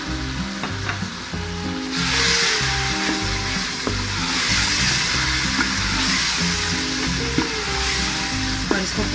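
Tomatoes and spices fry in a pan for tomato rice, a steady close sizzle with a spoon stirring and scraping throughout, louder after the first couple of seconds as fresh ingredients hit the oil.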